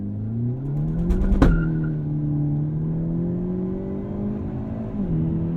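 A 2023 Hyundai Elantra N with dual-clutch transmission drones steadily as it launches hard using launch control, with a sharp thump early on and a pitch drop near the end as it shifts gear.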